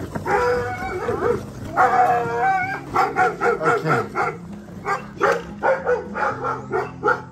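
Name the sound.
large guard dogs barking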